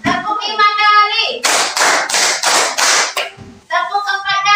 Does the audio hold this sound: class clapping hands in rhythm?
yes